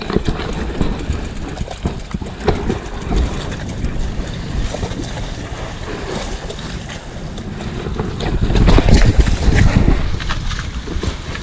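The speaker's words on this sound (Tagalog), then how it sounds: "Malakas ang alon." Strong waves surging at a beach at night with a passenger boat nearby, a loud rough wash of water under heavy wind buffeting, swelling toward the end.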